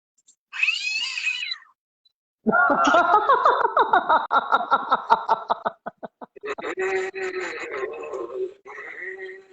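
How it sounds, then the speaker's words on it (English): A harsh, rasping cat growl from a soundboard sound effect sounds in bursts, buzzy and rattling, with short pauses between outbursts; loud and close. "that says cat growling"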